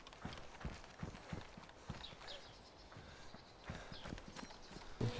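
Running footsteps in the DayZ video game, a quick irregular series of soft thuds and scuffs at a fairly low level, with a louder knock right at the end.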